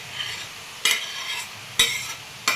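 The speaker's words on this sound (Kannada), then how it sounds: "ಈಗ ನೋಡಿ ಫ್ರೆಂಡ್ಸ್, ಇದಕ್ಕೆ ನಾನು ಟೊಮೆಟೊ ಹಾಕ್ತೀನಿ." Cauliflower sabji fries in oil in a pan with tomato added, giving a soft, constant sizzle broken by three sharp stirring scrapes spaced about a second apart.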